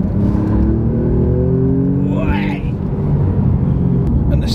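Alfa Romeo Giulia Quadrifoglio engine, roughly 500 brake horsepower, pulls hard under acceleration with a loud steady roar and a rising whine, sustained throughout with a brief dip midway, heard from inside or close to the car.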